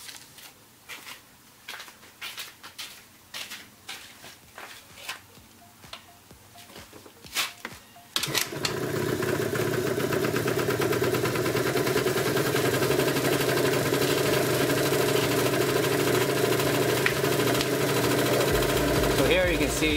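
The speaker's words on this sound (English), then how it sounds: "So I'm going to start the bike now and see if it works." A scooter whose battery is dead gets kickstarted. Clicks and scuffs from the kick lead into a sudden catch, after which the engine settles into a loud, steady idle close by for the rest of the clip.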